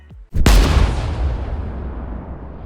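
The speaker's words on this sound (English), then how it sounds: "At noon, a single cannon shot" A single loud, deep boom of a cannon shot bursts out at noon in Malta, then rolls away in a long, fading rumble with no other sound around it.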